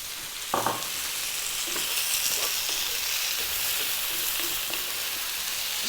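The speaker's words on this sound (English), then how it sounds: "let's drop in our potatoes" Potatoes hit hot oil in a pan of chicken curry with a brief burst of splashing, then a loud, steady sizzle and frying hiss continues throughout.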